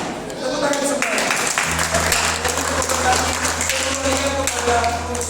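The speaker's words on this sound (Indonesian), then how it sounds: "Tepuk tangan semuanya." An audience at a children's Easter celebration claps steadily in a dense, sustained round of applause, with a low musical hum beneath and a voice speaking over it.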